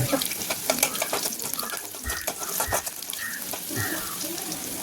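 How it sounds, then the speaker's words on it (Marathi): Chopped vegetables for a village-style bhaji fry in oil over a medium flame. Close, continuous crackling sizzle is broken by occasional stirring scrapes and light clinks. "मीडियम आपला जाळ ठेवा आणि त्याच्यावरती फ्राय करून घ्या"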